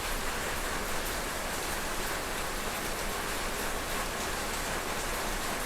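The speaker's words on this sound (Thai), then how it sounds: "วันนี้พามาชมบรรยากาศฝนตกนะคะ ฝนตกตั้งแต่เช้าเลยค่ะนี่ค่ะ" Rain falls steadily during a long wet spell, a dense, even hiss of drops hitting surfaces that stays loud and unchanging throughout.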